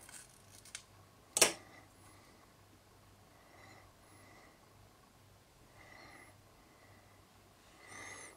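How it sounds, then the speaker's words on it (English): A single sharp snip of scissors cutting a feather off while tying a Claret Dabbler fly, close and clear against a quiet room, followed by faint soft handling sounds. "I'm cutting it off, this feather here."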